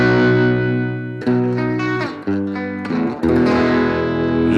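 Electric guitar played through a BOSS GT-1 processor with Two Notes dynamic cabinet impulse responses modelling a Fender Deluxe Reverb, loud sustained distorted chords changing several times, with no talking.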